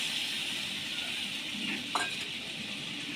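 Potatoes with poppy seed paste are stir-fried for aloo posto, a quiet steady sizzle in the pan with a brief utensil scrape and clink partway through, and no speech.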